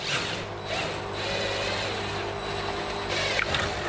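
A socket and ratchet turning a puller to draw a steering rack bush out of a Toyota Altezza, producing a steady close mechanical grinding and clicking wind with a few sharper clicks near the end.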